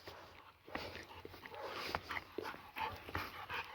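An old dog panting and whimpering outdoors in brush, with soft rustling and irregular breathy bursts, close and fairly quiet, with no speech.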